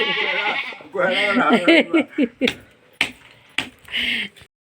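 Goats bleat loudly and repeatedly, close by, while being fed roti outdoors, with someone talking over and between the calls.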